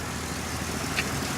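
A car engine idles with a steady, low rumble and a faint ticking texture, continuous and unchanging throughout.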